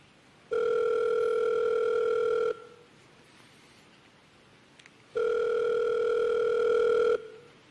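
A telephone ringback tone heard as a caller waits for someone to answer: two long, steady electronic rings about two seconds each, separated by a pause, clear and alone.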